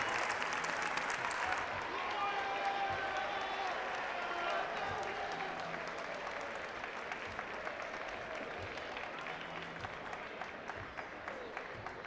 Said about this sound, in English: a big round of applause for your state runner-up, Miller Boys Cross Country Team